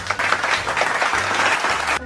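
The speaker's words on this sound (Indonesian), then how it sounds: "tepuk tangan untuk kita semua" Schoolchildren applaud in a fourth-grade Indonesian classroom, a short burst of dense clapping that is loud and close, stopping abruptly at the end, with a low hum underneath.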